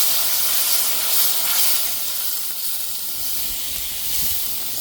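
Water poured into a hot pan for chicken masala curry, giving a steady, loud sizzling hiss that holds throughout without break.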